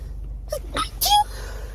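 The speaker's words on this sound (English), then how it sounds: "I'm about to sneeze, I think." A single short sneeze, sharp and close, preceded by a faint intake of breath in an otherwise quiet room.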